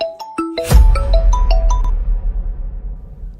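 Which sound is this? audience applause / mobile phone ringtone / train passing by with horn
mobile phone ringtone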